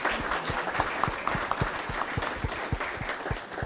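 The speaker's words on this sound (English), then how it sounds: "Would you join me in giving them a round of applause?" A room of people applauding library volunteers at an evening event, a continuous mass of clapping with a few louder individual claps standing out near the front.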